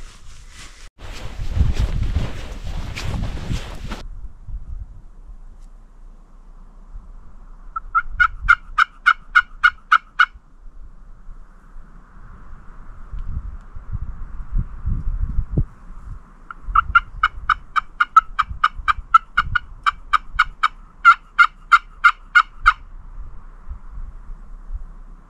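Two bursts of rapid, rattling wild turkey gobbles ring out at mid distance, separated by a quiet stretch with low rustling and a brief noisy thump near the start.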